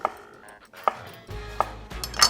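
A kitchen knife cuts a chunk of cucumber into quarters on a cutting board, giving four sharp, close chops spaced unevenly, with faint board knocks between and no talk.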